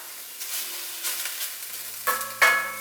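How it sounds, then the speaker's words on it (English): A pan of sautéing onions sizzles steadily while a utensil scrapes and stirs the mixture, making a few louder clatters near the end, all close and fairly quiet. "we just want to combine and have this mixture just sauteed together"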